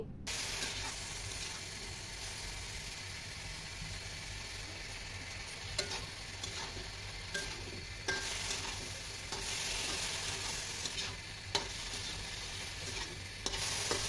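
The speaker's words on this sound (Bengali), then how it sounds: "পেঁয়াজ কুচি দিয়েও এখন আবার সব কিছু একসাথে একটু ভালো করে ভেজে নিচ্ছি" Okra frying with chopped onion and spices in a pan, a continuous bright sizzle broken by several sharp scraping and knocking strokes as the mix is stirred, close and without speech.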